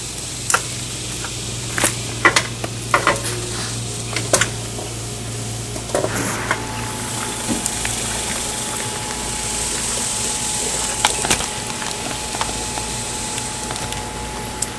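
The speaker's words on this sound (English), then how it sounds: "We've got the pump pumping it in, and this line returning back into the bucket with the vinegar solution in the bucket" A small pump circulates vinegar descaling solution from a bucket through a Navien NR tankless water heater, giving a steady low hum with a faint tone, broken by scattered clicks and splashy trickles of liquid at close range.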